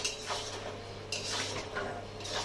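Pre-fried, half-boiled potatoes tumble into a pot of Bengali chicken curry, giving a few metallic clinks and scrapes of utensils against the pan, close and clear with no talking.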